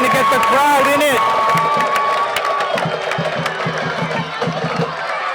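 Soccer crowd at a Belmont vs Watertown high school match roaring and cheering after a goal, with loud shouts and whistling over steady crowd noise and drum-like beats that continue underneath.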